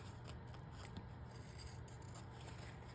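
Scissors snipping around lace and paper in a crafting session: soft, close, continuous light cutting and scraping with no talk.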